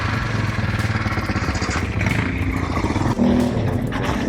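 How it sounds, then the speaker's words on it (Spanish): A motorcycle engine runs close by on an Alpine road, its revving drone rising and settling as it passes, loud and continuous without talk. "Una moto."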